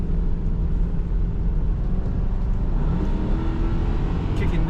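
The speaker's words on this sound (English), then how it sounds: "Kicking down that automatic transmission, we do feel the power." A 2002 Ford Thunderbird convertible with an automatic transmission drives along, its engine and road noise a steady, loud, low rumble heard from inside the cabin.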